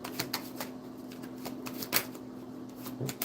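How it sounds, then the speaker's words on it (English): Playing cards riffle and snap in quick bursts of crisp clicks, close up, over a low steady hum. "This deck shuffles so well."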